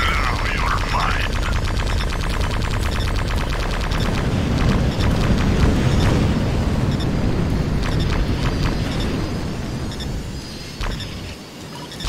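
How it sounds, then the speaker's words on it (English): A gauntlet explodes in the space-combat game Bang! Gunship Elite: a loud, sustained rumbling blast that swells from about the middle and rolls on under crackling gunfire-like bursts before tapering off near the end. "Gauntlet explosion imminent."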